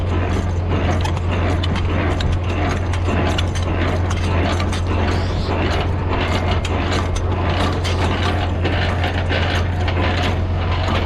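Hand crank on a truck trailer's landing gear turned steadily, giving a continuous loud mechanical ratcheting and gear-grinding clatter over a low engine hum, with no talking.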